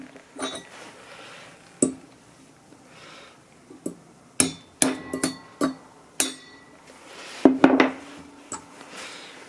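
A series of sharp metallic taps of a center punch on a glass bottle, uneven in spacing, each a bright ringing click, with a quick double strike near the end.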